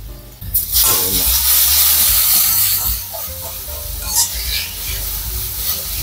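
Instant Mi Goreng noodles and sauce hitting hot oil with chili flakes in a pan: a sudden loud hiss that swells into a strong, sustained sizzle, easing slightly with occasional bursts, close by and without talk.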